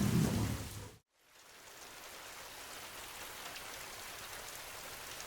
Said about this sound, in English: Days of relentless downpours had turned the vast plains into waterlogged swamps